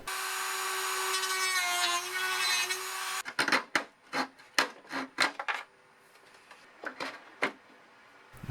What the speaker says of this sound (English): I'll need to cut out a new servo slot after marking the location.